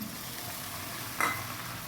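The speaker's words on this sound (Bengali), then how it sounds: "আমি জল দিয়ে মশলাটাকে ভেজে নেব" Steady low sizzling of spice paste frying in a pan for elephant foot yam curry, with a brief sharper scrape or clink near the end; no voices.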